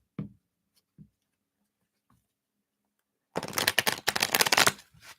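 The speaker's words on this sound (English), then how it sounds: "I'll shuffle these up here." Tarot cards are handled with a few soft taps and knocks, then shuffled in a dense, crisp riffling burst lasting about two seconds, close and clear with no talking.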